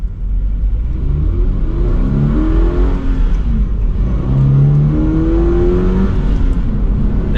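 A manual Toyota GR86 in eco mode with a Pedal Commander throttle controller accelerates, its engine note rising steadily and loud from inside the car, with shifting harmonics and no talk.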